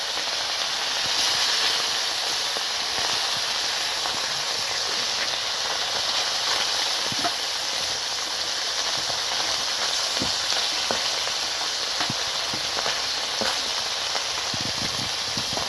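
Pieces of kakchi fish drop into hot oil in a pan and fry with a loud, steady broadband sizzle and hiss that continues throughout, with scattered small pops and crackles and no talking.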